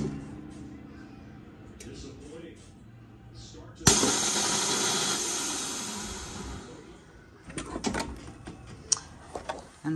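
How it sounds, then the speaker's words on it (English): A VacMaster VP-210 chamber vacuum sealer releases with a sudden loud pop and rushing hiss as the lid springs open, followed by clicks and handling noises. "And the lid pops right back open"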